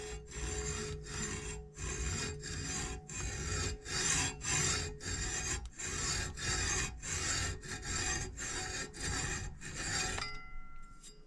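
A hand saw cuts a horizontal kerf into wood for a sliding bevel, making steady rasping back-and-forth strokes, roughly a dozen evenly paced passes, close and fairly loud, with no talking.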